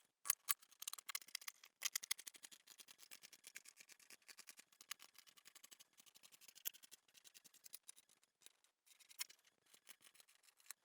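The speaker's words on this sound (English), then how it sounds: "next we're going to cut out the pattern" Scissors snip through paper while cutting out a dress pattern, producing quiet, rapid, crisp clicks in irregular bursts, close up with no voices.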